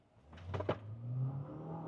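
GWM Cannon PHEV pickup launching hard from a standstill with wheel spin on a short track, a rising engine and motor whine swelling steadily, with brief sharp tire or drivetrain bursts early on.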